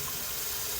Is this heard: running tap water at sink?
yes